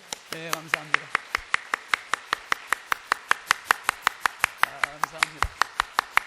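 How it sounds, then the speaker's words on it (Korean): A church congregation claps to welcome a guest: a steady, even run of sharp claps at about four per second that sounds nearly synchronized, with a voice speaking briefly at the start and again near the end. "그냥 우리 박수로 뜨겁게 환영하겠습니다."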